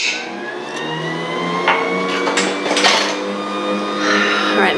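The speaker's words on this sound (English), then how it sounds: "Dough machine's not going to mix that like a mixer would" A dough machine motor whirs loudly and steadily up close, a sustained mechanical hum with faint rising and falling tones, broken by a few brief clatters and knocks.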